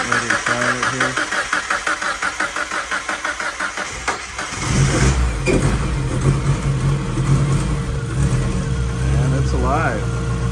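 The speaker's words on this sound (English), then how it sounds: "as you can see, the car is running" A Mazda Miata engine cranks over for several seconds, then catches and settles into a loud, steady idle with a few light revs, close by.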